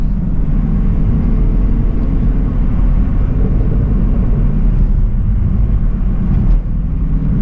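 A Chevrolet Camaro SS 1LE cruising on wet, rainy roads: a steady low engine drone and road rumble with tyre hiss, heard from inside the car and holding an even, moderate level the whole time.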